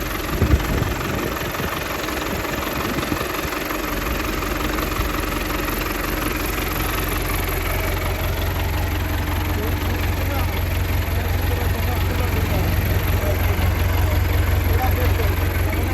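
A New Holland 850 tractor engine runs steadily close by at 2200 RPM, a constant droning rumble with a slight rattle that holds for the whole stretch.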